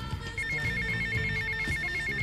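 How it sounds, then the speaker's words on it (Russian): A mobile phone rings in the GTA Vice City video game, a steady electronic ringtone pulsing in a repeating pattern over low in-game background sound, with no talking. "вот и как раз мобилочка звонит"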